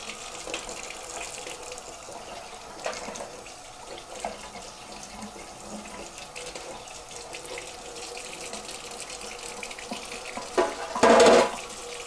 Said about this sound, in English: Now we can rinse the spoon out.